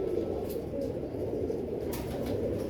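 Royal Teddy pigeons coo as a low, continuous rumbling murmur, close and steady, with a couple of faint clicks over it and no speech.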